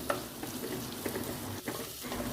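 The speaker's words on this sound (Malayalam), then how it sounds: "ഇതെല്ലാം ചെറുതായിട്ട് കട്ട് ചെയ്തതോടെ നമുക്കിതിലേക്ക് ചേർത്ത് നന്നായിട്ട് വഴറ്റി കൊടുക്കാം" Chopped ginger, garlic and kanthari chili are stirred in a hot pan, a soft continuous sizzle broken by occasional scrapes and light clinks of the spoon against the pan.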